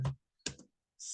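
A computer keyboard gives a few quick, close keystrokes spaced apart by brief pauses, quiet and isolated.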